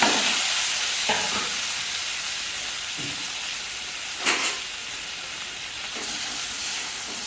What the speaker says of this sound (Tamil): தக்காளி லைட்டாக வதங்கட்டும்